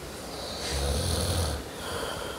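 Someone snoring while asleep, a single drawn-out rumbling inhale that swells and fades, followed by a quieter breath, close by.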